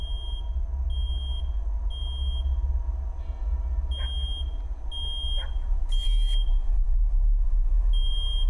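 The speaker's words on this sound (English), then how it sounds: "Alarm's going off." An electronic alarm in the horror video game Psalm 5:9-13 sounds a string of shrill, evenly spaced beeps over a low rumbling backdrop, pausing briefly before resuming.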